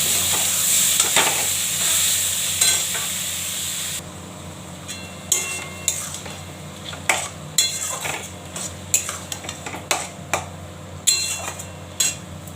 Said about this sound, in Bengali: মাছটা দিয়ে দিচ্ছি।